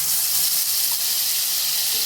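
Steady, bright sizzling of ginger garlic paste frying in hot oil, a continuous hiss heard up close with no voices.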